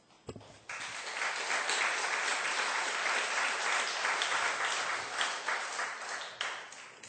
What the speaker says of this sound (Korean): 오늘 박수 좀 쳐서 격려 좀 부탁드리겠습니다.